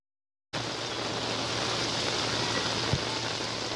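After a brief silence, a dense, steady hiss of heavy rain in flooded Cox's Bazar comes in and holds evenly to the end, with a faint low hum underneath.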